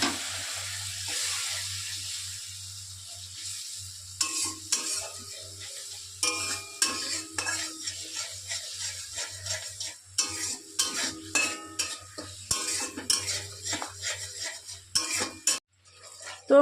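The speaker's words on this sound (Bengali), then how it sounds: "তো মশলাটা কষিয়ে নিই, অল্প অল্প করে জল দিয়ে দিয়ে মশলাটাকে কষাবো" Spice masala being stir-fried in a pan with small splashes of water, soft sizzling under repeated scraping and clinking of a spoon against the pan in irregular bursts.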